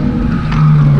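A Mazda MX5 NB drifting on a track gives a loud, close engine roar as its tyres squeal and skid, the pitch holding steady through the slide.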